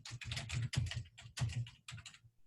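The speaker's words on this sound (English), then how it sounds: "and then you can just type the text" Fingers tap out text on a computer keyboard during a software demonstration, a quick, close run of uneven clicks in short bursts with small pauses between them.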